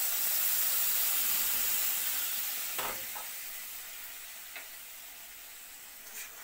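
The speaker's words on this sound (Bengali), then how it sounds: "এবার চানার ডালটা ফোড়ন দিয়ে দিলাম।" Chana dal sizzles steadily as it is tempered in hot oil for a Bengali masala dal, a broad, continuous hiss that eases slightly over time, with a few faint stirring clinks and scrapes.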